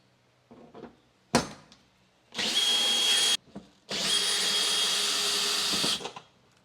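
Cordless drill backing out tailgate panel hardware on a Jeep Gladiator: a sharp knock, then two sustained high whirring runs of about a second and two seconds, close and loud, with short pauses and handling clatter between.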